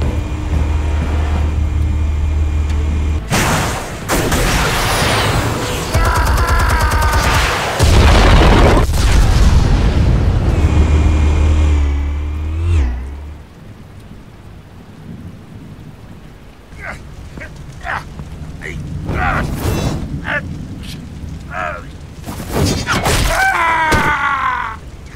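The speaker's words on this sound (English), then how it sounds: "Explosives armed. Fire when ready." Heavy explosive detonations in Batman Telltale, with deep rumbling booms and crashing debris loud at first, then fading into scattered crackles, impacts and rumbles.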